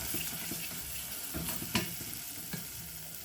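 Bell pepper paste, tomato paste and spices frying in hot oil for a soup, a close steady sizzle broken by scraping stirs and a few sharp clicks of a utensil against the pot.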